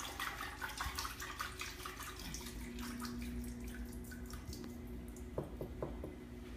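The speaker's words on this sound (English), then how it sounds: "just kind of let that water drain out." Rinse water drains and drips from freshly washed cabbage for coleslaw, heard as a close, steady trickle with scattered wet drips and a few squishy handling sounds, no voices.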